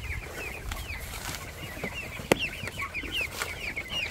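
Chickens in a backyard flock cluck and chatter steadily at moderate distance, a busy overlapping stream of short calls with one sharp knock partway through.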